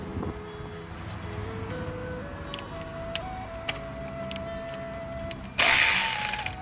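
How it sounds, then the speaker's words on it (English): A ratchet wrench clicks in short bursts while loosening a 12 mm bolt on the alternator of a 2011 Toyota Corolla, close up over a steady mechanical hum, followed by a louder rushing noise at the end. "Here is the 12 millimeter bolt right behind this setting. Need to loosen up."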